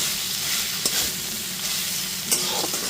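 Ginger, garlic and green chilli paste sizzles with onions in a pan on low to medium gas, a constant frying hiss with a couple of soft stirring knocks.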